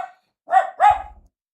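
Two quick yelping barks from puppies, close and loud, followed by silence.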